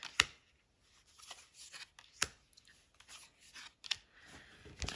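A Halloween-themed tarot deck is shuffled by hand in quiet, faint sliding riffles with a few crisp snaps of cards.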